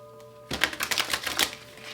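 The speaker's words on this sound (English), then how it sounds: "let me just get a couple of cards for the 11th house card here" Tarot cards drawn from a deck in a short burst of quick, crisp shuffling and flicking taps lasting about a second, close up after near silence with a faint steady hum.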